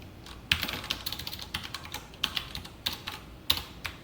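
Python code is typed on a computer keyboard, a close run of quick clicky keystrokes with a few louder key presses standing out, and no talking.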